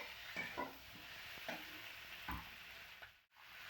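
Boiled potatoes fry in a pan for aloo dum, a steady soft sizzle with a few scraping stirs of a spatula, close and fairly quiet, with no talking.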